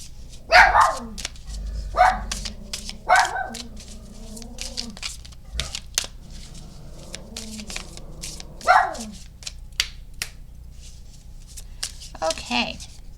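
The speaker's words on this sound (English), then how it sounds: "And I apologize for the dogs." Dogs bark in short, sharp bursts from nearby, several separate yaps scattered irregularly through the stretch, with quieter rustling and card-shuffling sounds between them during a tarot reading.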